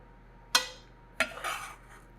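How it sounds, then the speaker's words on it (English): Ingredients for carnitas being put into a Dutch oven pot, heard as two sharp clinks of metal on the pot followed by a short scrape and rustle, close and fairly quiet. "I'm gonna put it in here, the pot, a Dutch oven"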